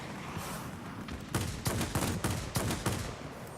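Cannon on a J7W2 fighter fire in quick bursts during a flight combat game, several rapid rattling volleys standing out over a steady engine drone.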